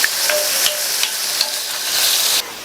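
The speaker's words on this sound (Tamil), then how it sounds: "இப்ப இந்த வெங்காயத்தை லைட்டா அதனுடைய கலர் மாறுற அளவுக்கு வதக்கிக்கலாம்." Onions sauté in a pan with a constant close sizzle, broken by regular light taps and scrapes of stirring, with no talking.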